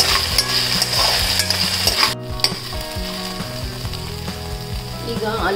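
Potatoes frying in oil in a pan for a cabbage-potato side dish, stirred with a utensil: continuous close sizzle with repeated scraping strokes, a brief dip midway, no talk.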